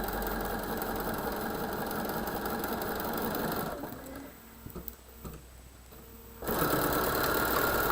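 A sewing machine stitches quilt pieces for holiday pine tree and peppermint blocks, running in a steady close mechanical whir that stops for a few seconds mid-clip and then resumes.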